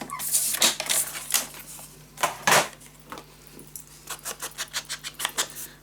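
Paper being cut for a scrapbook mini album, a run of crisp, close snips and clicks in uneven bursts, followed by a quicker rhythmic series of short cuts near the end.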